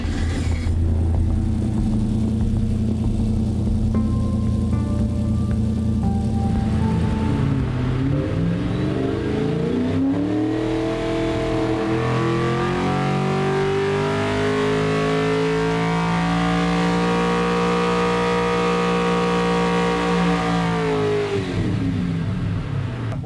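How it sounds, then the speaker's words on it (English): Engine of a Toyota supercar prototype cranking, firing into life and revving; a loud, continuous engine note rises and falls through several revs, dominating the scene with no talk over it. "one of them is the first time it fires and you get it running."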